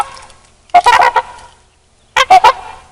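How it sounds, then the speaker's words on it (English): Swans honk overhead in two loud, close bursts of several rapid nasal calls each, separated by a quiet pause. "a flock of birds flew across the sky"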